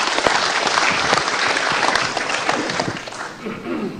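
Studio audience applause during a heated televised talk-show debate in Indonesia, a loud, full wash of many people clapping at once, steady throughout with slight dips.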